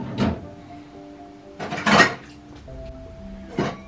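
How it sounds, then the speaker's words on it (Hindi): Small dishes being placed into the rack of a Voltas DT8S dishwasher, heard as three separate clattering knocks spaced a second or so apart, fairly close, with a quiet background between them. "अब मैं इसमें छोटे बर्तन डालूंगी"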